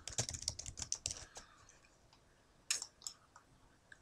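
Rapid keystrokes on a computer keyboard as an email address is typed, close and crisp: a quick burst of clicks, a short pause, then a few more taps.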